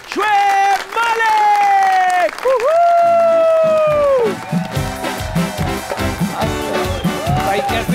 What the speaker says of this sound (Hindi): आप लोगों की भरपूर तालियों में